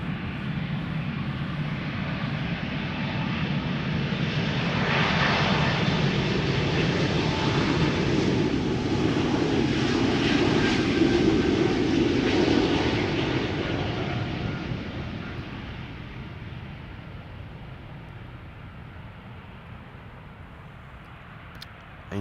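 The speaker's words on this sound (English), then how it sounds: "This is KLM Flight 1425 going to Birmingham. Keep doing it. Embraer E2-195, 3 years old." A KLM Embraer E2-195 jet, about three years old, passes at a busy airport. Its engine roar swells steadily to a peak and then fades as it moves away, alone and without voices.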